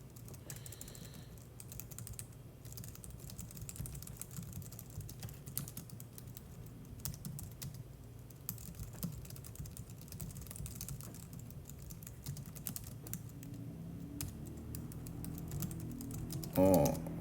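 Quiet, continuous typing on a computer keyboard while coding, with irregular soft key clicks over low background hum throughout.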